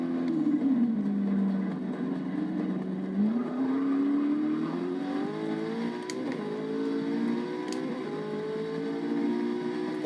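A McLaren race car engine lapping Spa in Forza Motorsport 6, a continuous droning engine tone that sags, then climbs through gears with rising pitch, steady and fairly close, no voices.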